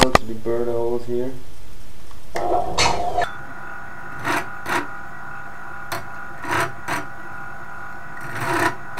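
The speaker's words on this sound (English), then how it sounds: "Take a big drill to the bird holes here." A big drill bores holes in a Talhofer sparring buckler, with a rising whine at the start, then short bursts and scraping amid a steady hum, with a voice speaking.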